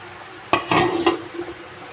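A lid goes onto a pot of simmering fish curry with a sharp metallic clank, followed by a few lighter scraping rattles as it settles, all brief and close.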